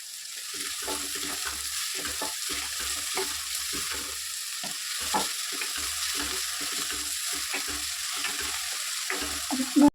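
Chopped onions fry in a pan with salt, giving a steady sizzle broken by frequent scraping stirs of a utensil throughout, close and fairly loud with no voices.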